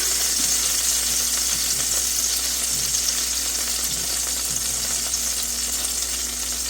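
Benton's country bacon sizzles and crackles steadily in a pan, giving a close, even frying hiss with no talk over it.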